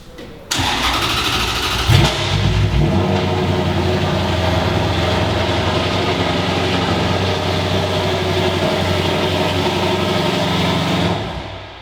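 A BMW car engine bursts into loud, sustained revving indoors, kicking in with a sharp start and holding a dense roar for about ten seconds before cutting off abruptly.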